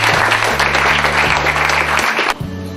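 An audience at a live event applauds in a dense burst of clapping, loud and close, running for a couple of seconds before thinning out, with a tonal background beneath it.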